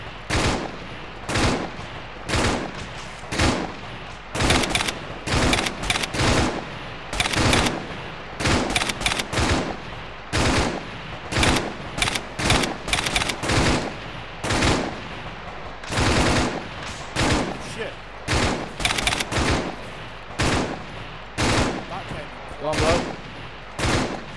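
Sharp, loud bursts of rifle and machine-gun fire crack again and again throughout a military shooter game mission, with irregular rapid volleys and short pauses between them, and no voices heard.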